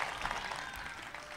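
Audience applause at a Hindi kavi sammelan and mushaira in Bhopal, following a poetry recitation: a faint, steady wash of hand claps throughout, with no voices over it.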